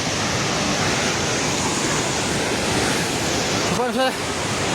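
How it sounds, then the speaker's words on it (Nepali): Flood water rushes near Trishuli bazaar in Nepal, a loud, unbroken roar close by, with a brief voice near the end. "पानी नजिक आइसकेको छ"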